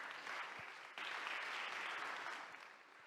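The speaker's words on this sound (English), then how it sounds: "I think our participants, before leaving the floor, deserve a round of applause" A ministerial audience at a UN education pre-summit session claps steadily for departing participants, a dense, even patter of many hands that stays fairly soft and tapers slightly at the end, with no talking over it.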